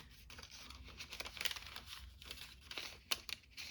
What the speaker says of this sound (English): And then we can just fold it in half, I think.